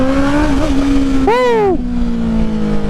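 Honda CBR 650R motorcycle with a new full exhaust revs hard once, a loud close rising-and-falling engine roar over a steady idle drone, with an excited voice shouting over it.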